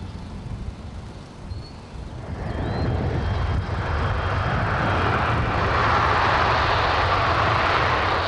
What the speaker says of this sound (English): As Matt flies a military simulator